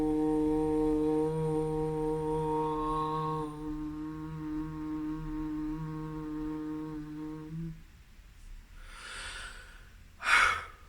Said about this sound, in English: So we breathe in. Breathe out.